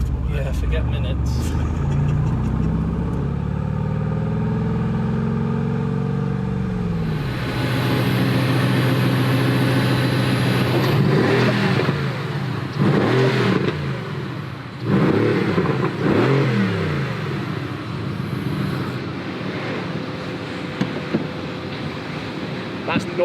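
A Mercedes-AMG GT R revving and accelerating on a race track, with loud, sustained engine roar rising and falling through gear changes, heard from inside the car while people talk over it.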